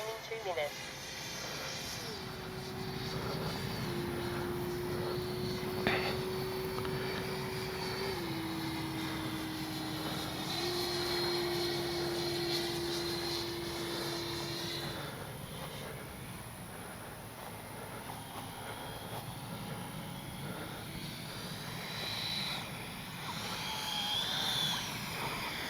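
An HSD Jets F9 Cougar 80mm RC jet flies practice landing passes, its sustained high whine rising and falling in pitch as it circles and approaches, with someone talking over it.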